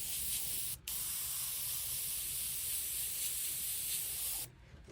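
An airbrush sprays paint over a stencil in a steady close hiss, broken by one brief pause early and cutting off near the end.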